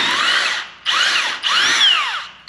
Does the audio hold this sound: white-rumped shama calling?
no